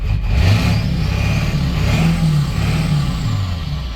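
A Ford 7.3 diesel truck engine with a bad injector runs loud and close, its rough steady rumble rising and falling through gentle revs with no speech.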